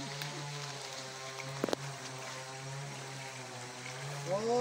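A sago grating machine fitted with a grating blade runs with a steady, droning motor hum. A brief sharp knock breaks in partway through, and the pitch rises slightly near the end.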